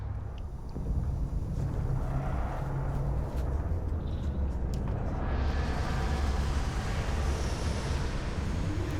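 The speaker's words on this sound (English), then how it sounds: "Oh, it's very, very windy here." Wind blows on a planet in the video game Starfield, a continuous loud rushing roar with heavy low rumble and gusting buffeting, steady for the whole stretch with no voices.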